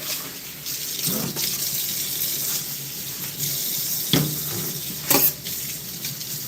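A kitchen sink tap runs while dishes are washed: a steady, close stream of water with a few splashes and clatters through it.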